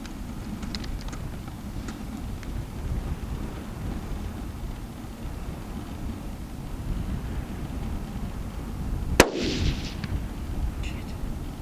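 Single sharp rifle shot fired at a pronghorn buck on a Wyoming hunt, loud and sudden against steady wind noise outdoors.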